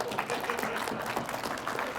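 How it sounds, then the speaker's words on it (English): Audience applause after a volunteer's attempt at a science talk, a steady wash of clapping from a crowd filling the two seconds with some voices mixed in. "Give him a round of applause."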